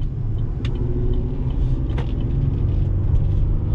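Cabin of a 2021 GMC Canyon AT4 with its 3.6 L V6 engine while driving, a steady low engine and road rumble with no speech and a few faint ticks and clicks over it.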